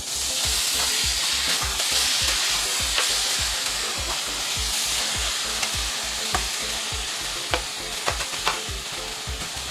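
Chopped cheese sandwich meat crisping on a griddle, a steady loud hiss with rhythmic scraping and chopping strokes of a spatula throughout, close up and with no talking.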